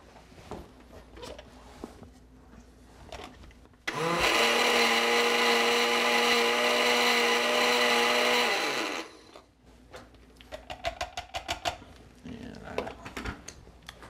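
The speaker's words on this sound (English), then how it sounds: "put this in my blender" A blender purées honeydew avocado soup, whirring loudly for about five seconds, a steady high-pitched motor drone that starts abruptly and cuts off, with quieter kitchen clatter before and after.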